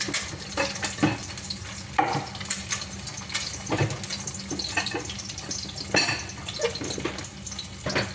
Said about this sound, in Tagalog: Prito ako ng 4 na egg.